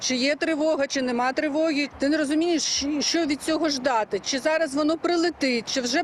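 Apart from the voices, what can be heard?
None of the usual background noises is heard.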